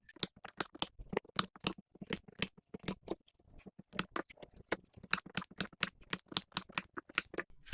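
Scissors cut through paper in a quick, uneven series of crisp snips with brief pauses. The cutting is close up and quiet, with no one speaking.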